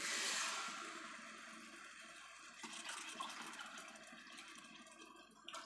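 Water poured onto basmati rice for paneer biryani, a steady rushing stream that starts loudest and settles into a softer, continuous splash.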